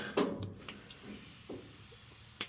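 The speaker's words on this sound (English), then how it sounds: "So we'll fling some WD-40 down" WD-40 lubricant is sprayed down into a stuck part while clearing out a VW Caddy, giving a few short, faint hissing bursts in a quiet space.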